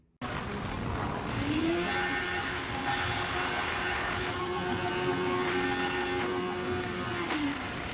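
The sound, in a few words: Kawasaki Ninja 650 motorcycle engine revving with failed clutch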